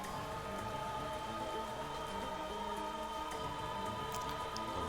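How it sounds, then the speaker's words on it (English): Steady rain patters in a Pokémon video game battle, an even, continuous hiss of falling drops heard alone, at low volume and with no change throughout. "The rain is still up."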